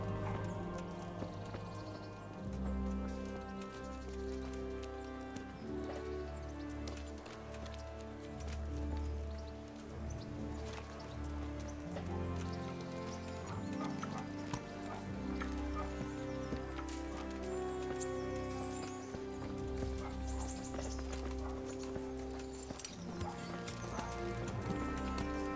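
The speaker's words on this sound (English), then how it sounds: "Get your horses mounted up and let's ride out on the double." Horses ride through the rain in Kingdom Come: Deliverance, their hooves clip-clopping steadily near at hand over a soft patter of rain, with music playing throughout.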